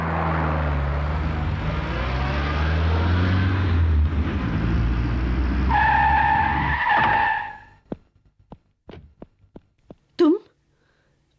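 Car speeding in a film chase sequence, a loud roaring engine with tyres squealing and skidding, then cutting off into sharp scattered impact-like hits and a brief whoosh.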